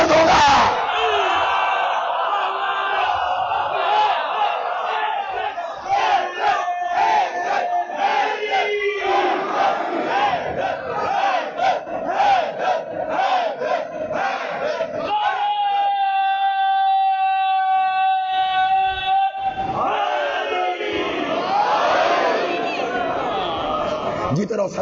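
A large crowd of mourners at a Muharram majlis chants religious slogans in loud, rhythmic unison, voices surging and falling, with someone speaker's amplified voice cutting through at times.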